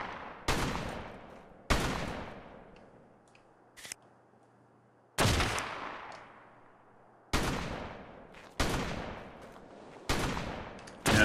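Gunfire in a video game: six loud single shots, each with a ringing decay, spaced about one to two seconds apart, plus one faint click between them, heard alone with no talking.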